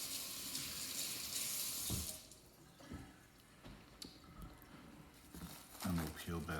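Tap water runs and splashes as hands are wetted before a stretch and fold of sourdough dough, loud at first and then quieting into drips and handling noises, with talk over it.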